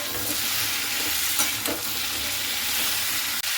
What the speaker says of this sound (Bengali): বাড়িয়ে নিয়ে গ্যাস মানে এইভাবে খুব সুন্দর করে ভেজে নিতে হবে সেই লালমিগুলোকে।